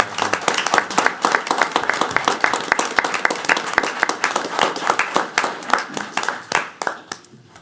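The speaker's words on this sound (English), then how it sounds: "can we give them one more round of applause for their quick?" A council meeting audience gives a round of applause, many distinct hand claps crackling close and fairly loud in a brisk, uneven stream that thins out toward the end.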